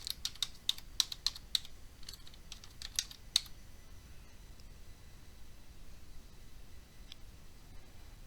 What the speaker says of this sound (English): we're going to type in the word illumination